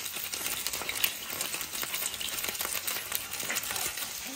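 Turnip rice cake pan-frying, a steady close sizzle with crackling oil pops and occasional light scraping in the pan, no talking over it.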